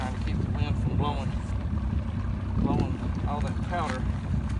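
Wind gusts buffet a boat on a lake, a loud, steady broadband rush with a low rumble, while voices talk over it throughout.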